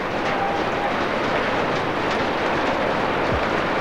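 Golf-ball-sized hailstones pounding the Gabba cricket ground during a storm make a dense, continuous roar of impacts, loud and even throughout with no break and no voices.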